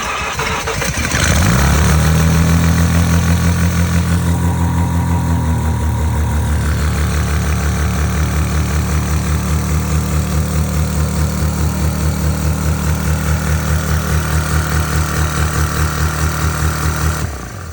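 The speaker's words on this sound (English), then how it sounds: "I've adjusted the idle a bit more now, so hopefully she'll start and not be quite as high RPMs." A Mazda 13B rotary engine in an RX-5 project car fires up and settles into a loud, steady, fast idle that stays high and unchanging, close by with no talking.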